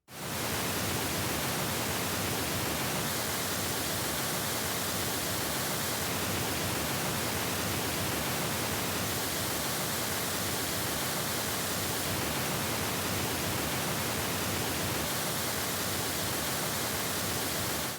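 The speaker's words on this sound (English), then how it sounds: "listen for the difference between the reference and the speaker version of this pink noise" Pink noise test signal played through an Edifier M60 desktop speaker, a steady broadband hiss running loud and unbroken throughout, with a slight shift in tone every few seconds as the source switches.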